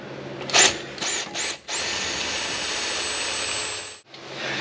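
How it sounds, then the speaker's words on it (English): A drill cuts into the outside shoulder of a metal engine oil restrictor plug: a short whirring burst, then a steady high-pitched drilling whine lasting a few seconds that stops briefly and resumes. "I'm gonna drill this outside shoulder and then take the plug out"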